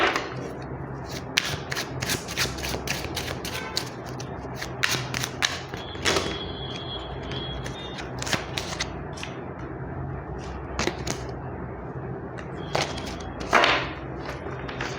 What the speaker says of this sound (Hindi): ये जो इतनी बार यहाँ पे शफल करते हुए गिर रहा है